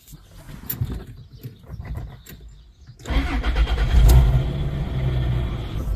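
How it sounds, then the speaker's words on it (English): A Toyota Land Cruiser LC100 with a 4.5-litre 1FZ-FE inline-six on a standalone ECU idles quietly before cranking and catching, then running loud and close with a brief rev before steadying. "So let's start the engine"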